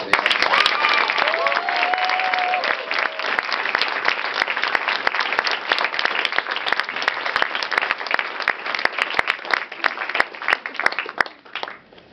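Applause at a medical residency graduation ceremony, a sustained wash of many hands clapping with individual claps standing out near the front and voices briefly heard early, fading off at the end.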